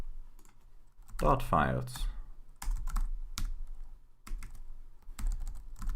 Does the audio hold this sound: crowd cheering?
no